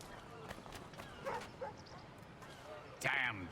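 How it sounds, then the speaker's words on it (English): Dogs barking in the Assassin's Creed III video game, a few short barks and yips amid footsteps and game noise, ending in a louder bark burst, with speech around them. "More dogs."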